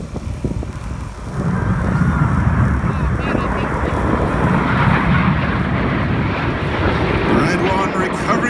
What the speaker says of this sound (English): Red 1 recovering the aircraft below the cloud base.